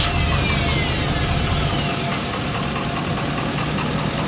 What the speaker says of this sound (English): So now we're going to go ahead and turn the 2016 F-350 on.